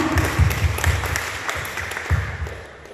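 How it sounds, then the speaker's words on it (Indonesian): Applause at a church anniversary service for a 105-year-old congregation, following the blowing out of candles: a crowd clapping in bursts with a softer stretch midway, steady and moderately loud throughout. "Tepuk tangan."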